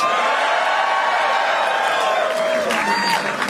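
A large crowd at a Canadian Flag Day political speech cheers and whoops continuously, a dense wash of voices and applause filling the space.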